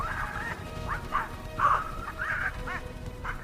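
Several dogs bark and yelp in quick irregular bursts, fairly close, over a low background rumble.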